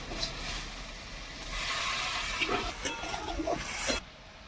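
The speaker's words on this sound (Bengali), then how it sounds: "এবার আমি সামান্য জল দিয়ে দেবো" Water poured into spices frying in a pan while cooking elephant foot yam, giving a steady hiss and steamy sizzle that swells midway, then cuts off abruptly near the end.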